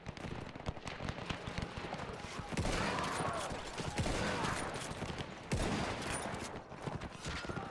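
Gunfire in the WW1 game Between Empires, dense crackling rifle volleys and fusillades with louder bursts around three and five seconds, continuous battle din.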